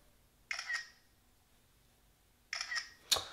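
Phone camera shutter clicks while taking a selfie on a plane, two separate soft shutter sounds about two seconds apart, the second followed by a sharper tap, close and quiet with no talk.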